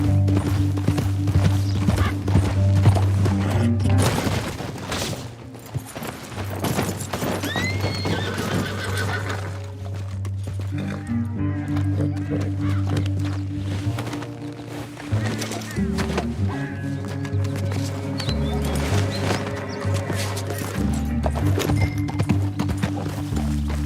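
Horses in the video game Red Dead Redemption 2 with rhythmic clip-clopping hooves and several loud whinnies and neighs, over a low droning musical score with sustained tones.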